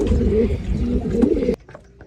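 White pigeons in an aviary coo in low, throaty warbles, close and overlapping, then the sound cuts off abruptly, leaving faint chirps.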